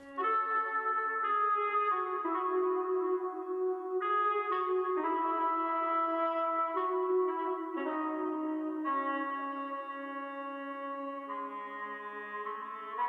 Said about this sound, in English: the next sound of the beat was a saxophone that comes in